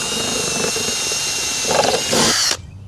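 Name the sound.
drill boring through hard rubber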